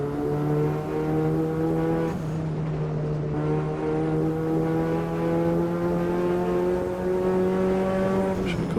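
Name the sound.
race car engine in Automobilista 2 video game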